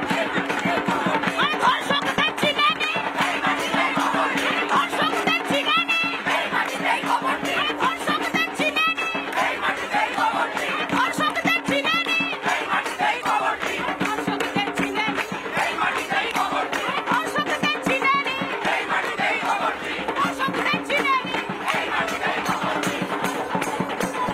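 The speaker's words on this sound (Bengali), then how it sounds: "এই মুহূর্তে স্লোগান উঠছে।" A large protest crowd chants slogans calling for justice, loud and continuous, with rhythmic massed voices and shouting filling the whole stretch and general babble beneath.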